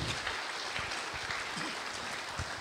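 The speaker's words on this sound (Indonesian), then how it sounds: "Beri tepuk tangan dulu untuk kedua narasumber kita hari ini." A studio audience at a televised health talk show applauds two guests with a steady, even wash of clapping that sounds distant and fairly quiet.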